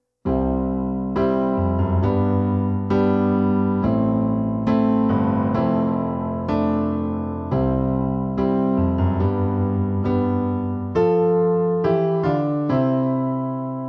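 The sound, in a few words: piano accompaniment intro and verse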